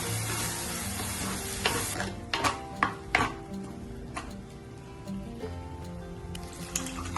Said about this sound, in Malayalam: അതിനുശേഷം 3 തക്കാളി അരച്ചത് ചേർത്ത് പച്ചമണം മാറുന്നത് വരെ നന്നായി വഴറ്റി കൊടുക്കാം.